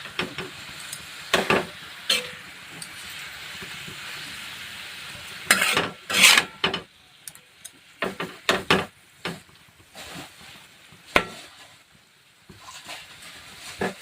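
Fenugreek greens are stirred in a pan with a spoon, producing soft sizzling under repeated scraping and knocking strokes against the pan in irregular bursts, close and fairly loud, with quiet gaps between.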